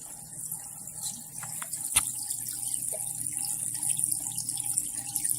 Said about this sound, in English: That little splash you hear is just from that water falling.